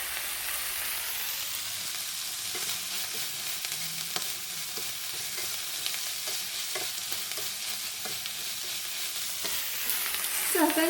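Pork slices stir-fry with tofu and garlic chive shoots in a hot wok, a steady loud sizzle with faint spatula scrapes and stirring clicks throughout, no talking.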